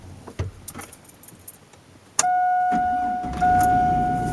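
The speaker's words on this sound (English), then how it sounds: "Start up the vehicle." Keys jingle and rattle in an ignition, then the car engine cranks and fires up and settles into a steady idle hum with a faint chime tone, close and loud.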